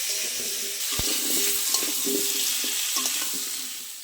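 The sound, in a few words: potato and pumpkin frying in pan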